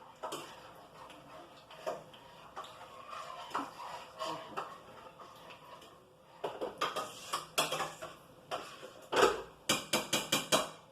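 Spoon scraping and clinking against a pot while stirring ingredients into gravy, starting as soft intermittent taps and building into a quicker run of sharp metallic clicks near the end.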